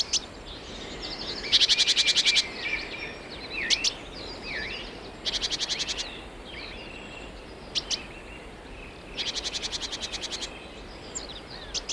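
Garden birds sing in a quiet outdoor setting, with several bursts of rapid high trilling and scattered chirps and calls spaced across the stretch over a soft background hiss.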